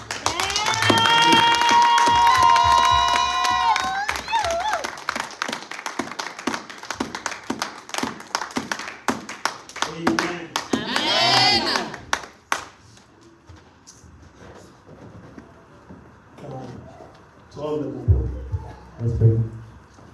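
A church congregation at a Sunday service claps in a sustained round of applause after a voice and tonal sounds at the start, then the clapping fades out and a voice continues.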